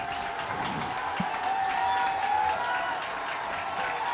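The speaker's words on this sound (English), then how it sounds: "Warrior crowd below us starting to make noise" A home crowd in the stands at a high school football game between Clear Creek-Amana and Cedar Rapids Washington sends up a steady, fairly loud roar of cheering and clapping that fills the whole stretch without a break.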